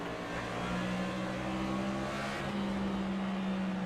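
Race car engines in the NASCAR 25 video game hold a steady, droning tone with a low hum throughout, shifting slightly in pitch partway through, with no talk.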